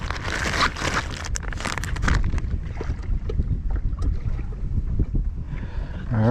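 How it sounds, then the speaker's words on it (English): Strong wind buffets the microphone in loud, gusty roars while wading on a redfish fishing trip near Jacksonville, Florida, with splashing water mixed in and no talking. "we're also dealing with a pretty strong wind in our face"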